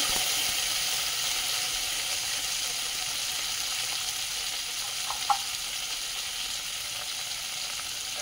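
Tomato and two green chillies fry with whole cumin seeds in oil over a medium gas flame, giving a steady hissing sizzle with a couple of small clicks midway.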